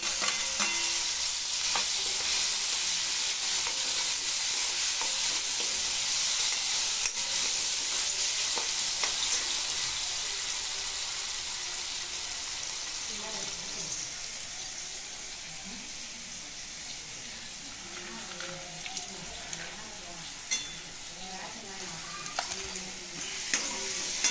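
Onions sizzling and frying in a pan while being stirred, with tomatoes tossed in; a steady loud sizzle runs throughout with scraping stir strokes, easing slightly toward the end.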